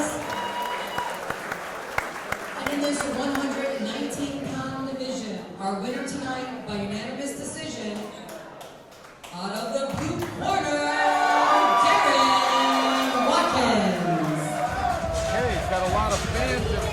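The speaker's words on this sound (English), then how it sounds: "let's give these two boxers one more big round of applause" Crowd at a 119-pound amateur boxing bout applauds and cheers for two boxers, a steady roar of clapping that swells louder toward the end, with a voice talking over it.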